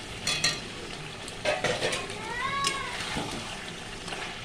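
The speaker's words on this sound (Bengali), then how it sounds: "আলুটা দিয়ে একটু কষাবো।" Chicken and potatoes are stirred and sautéed in oil, with scraping utensil strokes against the pan over a continuous frying sizzle; a brief high meow-like cry rises partway through.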